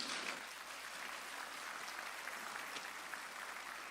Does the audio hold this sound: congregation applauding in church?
yes